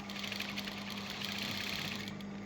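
A sewing machine stitches fabric pieces together in a steady, continuous mechanical whir over a constant low hum, running alone without pauses.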